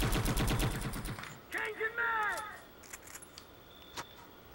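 Gunfire from the video game Conflict: Global Terror on Xbox: a quick rattling burst of rapid shots up front, followed by scattered faint pops and thuds amid quieter game sounds.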